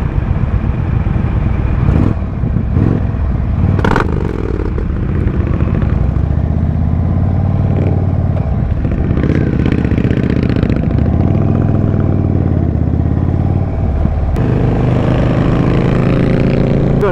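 At a MotorFest gathering, a Can-Am vehicle's engine runs at a loud, close, continuous idle with rough rumbling and occasional revs, amid outdoor crowd noise.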